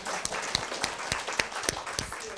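A small audience applauds at a church diocesan talk session, with distinct individual claps in an uneven rhythm, fairly close and moderately loud.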